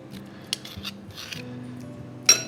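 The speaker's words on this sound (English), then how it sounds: "and then grate some fresh ginger" Fresh ginger rasped against a grater in a few faint, scratchy strokes, with quiet clinks and a low background hum.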